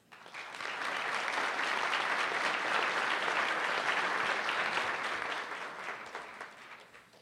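A forum audience applauds to welcome guests, a dense, steady wash of clapping that swells quickly, holds for several seconds, then tapers off with no voices over it.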